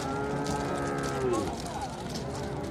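A cow at a livestock market lets out a long, drawn-out moo with rich harmonics, close and clear over a steady din of crowd noise.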